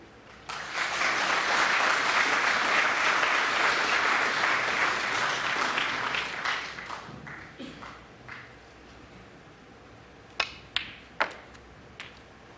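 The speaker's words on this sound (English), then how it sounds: "Applause from the other side of the arena" Audience in a snooker arena bursts into loud, sustained applause that swells and then fades over several seconds, followed by a few scattered sharp knocks or claps near the end.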